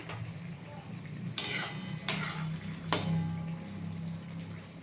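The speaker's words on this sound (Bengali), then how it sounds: "এবার আমি ঢাকনা খুলে দিচ্ছি দেখুন" A pot lid comes off a pot of vegetables cooking on the stove, a few bright clanks and scrapes over a low simmering hum, close and fairly loud, with no talking.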